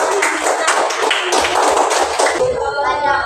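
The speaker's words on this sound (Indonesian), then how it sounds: "tepuk tangan untuk pelajaran yang" A class of students claps together in a lively burst of applause that fades out near the end, with no talking.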